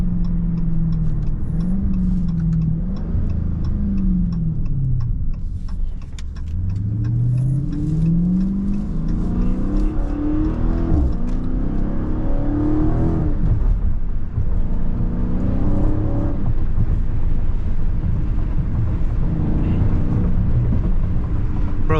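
A 500 hp Dodge Challenger Scat Pack Widebody Last Call in track mode, its V8 engine revving and accelerating hard through the lower gears, pitch climbing and dropping with each shift, loud and close throughout without talk.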